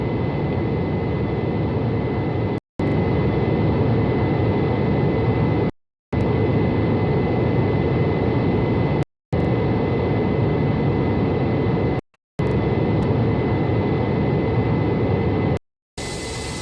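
Steady, loud roar of an airliner's jet engines heard from inside the cabin while waiting for takeoff, a continuous broadband rush broken by several brief dropouts.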